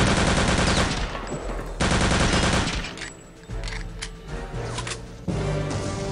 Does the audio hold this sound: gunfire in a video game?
yes